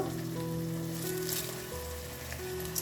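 Roasted gram, chopped capsicum, green peas and curry leaves fry in oil over a high flame, giving a quiet, steady sizzle with a low hum in the background.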